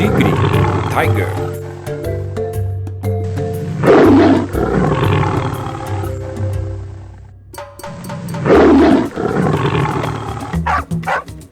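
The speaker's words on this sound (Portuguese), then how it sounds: "Tigre, tiger." A tiger roars in repeated loud, rough bursts near 4 and 9 seconds, with a steady low rumble and a voice speaking between them in a Portuguese-English animal sounds lesson.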